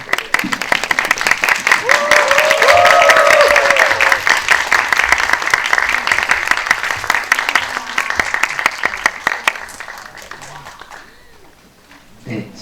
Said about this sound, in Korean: 입장하실 때 큰 박수로 환영해 주시면 감사하겠습니다.